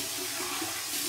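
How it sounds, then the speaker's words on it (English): Warm water runs from a tap to rinse off after shaving with an olive-based shave soap, a brief, steady gush heard up close with no talking. "so here's my warm water rinse"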